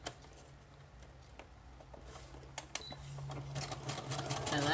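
A sewing machine stitches scrap pieces of paper together into handmade frankenpaper for a journal, running as a steady low whir with faint ticking, quiet at first and growing louder toward the end.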